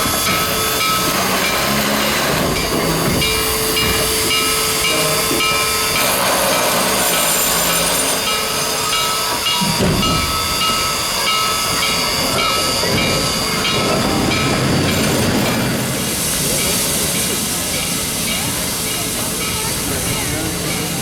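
Western Maryland steam locomotive 734 gets under way at a station, a loud, close rush of hissing steam and rail rumble that swells and shifts over about twenty seconds.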